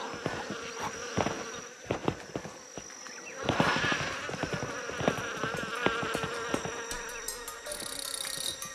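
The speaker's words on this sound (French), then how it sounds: "au moindre mouvement de Pablo, les guêpes sans raison sont immédiatement dans tous leurs états" Agitated wasps in a French Guiana forest buzz in a swarm, loud close drones rising and passing, mixed with sharp clicks and knocks and a steady insect hum behind.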